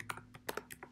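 Keys on a computer keyboard tapped in a quick, uneven run of about seven sharp clicks over a low steady hum, close and fairly quiet.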